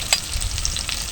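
Spices with Kashmiri chili powder frying in a pan, a continuous close sizzle with crisp crackles and a stirring clink, steady and moderately loud.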